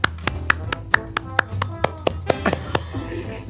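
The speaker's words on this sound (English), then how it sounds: "Cue the applause track." A sparse applause sound effect played on a podcast, made of distinct sharp claps in a loose irregular rhythm, fairly close and clear over a low hum, trailing off at the end.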